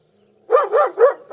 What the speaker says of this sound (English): they've got a dog in their corner over there, but like I said, it's making a lot of noise right now